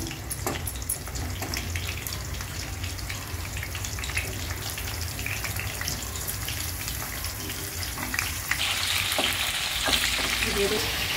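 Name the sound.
stirring bitter gourd masala frying on low flame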